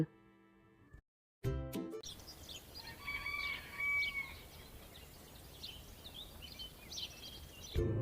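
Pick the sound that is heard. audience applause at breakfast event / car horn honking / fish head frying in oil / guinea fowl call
guinea fowl call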